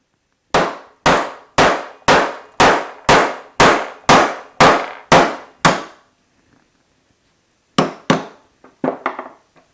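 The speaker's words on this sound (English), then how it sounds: "I'm going to take my 2-pound brass hammer and give it a few whacks." A 2-pound brass hammer strikes a coin ring tool in ten sharp, ringing whacks at an even pace, then a pause and a few more scattered hits.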